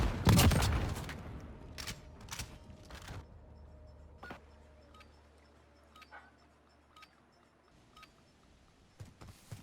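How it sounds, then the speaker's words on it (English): Gunfire traded back and forth in a shooter video game during a 1v1 gunfight tournament: a loud burst of shots at the start, then scattered single cracks and ticks spread out across the rest, with no talk. "Both opponents are shooting back and forth"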